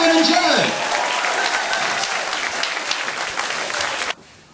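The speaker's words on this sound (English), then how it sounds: "a really big round of applause" An audience at a carnival queen presentation applauds performers with a loud, dense round of clapping that holds steady for about four seconds, then stops abruptly.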